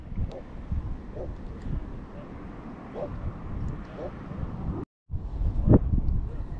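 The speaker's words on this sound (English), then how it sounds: "Hey, the wind doesn't let me to cast." Strong wind buffets the microphone outdoors on the shore at Buxton, Cape Hatteras, a steady loud rumble with gusts throughout, while someone talks over it.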